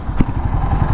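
A Royal Enfield Guerrilla 450 motorcycle engine drops off its revs, settling into a throbbing, uneven rumble after a brief sharp clatter near the start, heard close and fairly loud with no talking.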